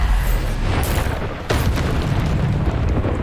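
A Bombarda spell explosion in a magic video game: a heavy booming blast, then a second sharp detonation halfway through, both loud and rumbling with low-end weight that lingers.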